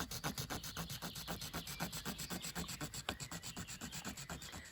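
A flint flake saws notches into a wooden arrow shaft in quick, even back-and-forth rasping strokes, close and fairly quiet, about five strokes a second, with no voices.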